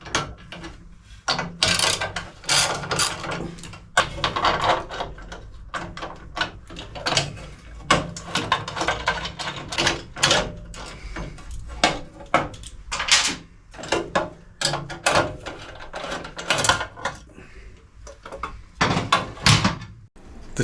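Toolbox being unlocked and its three mounting bolts undone on a 1942 Harley-Davidson WLA, with close, irregular metallic clicks, ratcheting and clunks coming in bursts throughout, with no talking.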